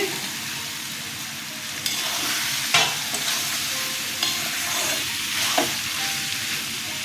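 Soybean chunks drop into spices frying in a pan for an aloo soybean curry and get stirred, with continuous loud sizzling broken by several sharp scraping spatula strokes.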